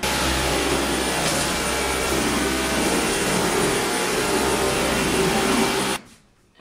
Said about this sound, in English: My handy dandy Dyson.